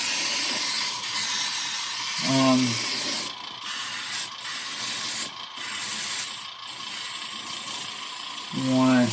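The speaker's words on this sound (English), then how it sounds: "Yeah, so I'll spray inside the mouth a little bit." Short bursts of spray paint hiss onto a zombie skull model, several close, sharp sprays separated by brief pauses, with a rattling can shake at the start and end.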